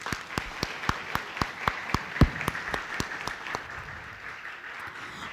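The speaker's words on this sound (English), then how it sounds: "Let's celebrate the brilliance of our newly elected student leaders of 2025-26 with a huge round of applause." Audience at a student leadership ceremony clapping for newly elected student leaders, a sparse, rhythmic round of individual claps in steady unison that thins and fades out near the end, heard alone without talk.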